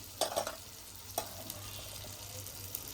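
Cream being stirred into masala in a pan while making homemade paneer: a few soft scraping stirs near the start and one more later, over a low, steady background hum with no talk.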